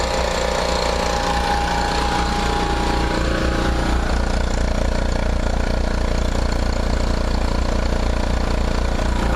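A backup generator engine runs roughly during a home power outage, a loud continuous mechanical clatter with a rattling, slightly uneven pulse that holds steady throughout with no talk over it.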